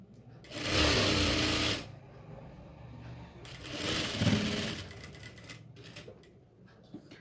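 A sewing machine stitches cloth for a kitchen apron made from an old nighty, running in two close, loud whirring bursts separated by a quieter pause with faint handling noise.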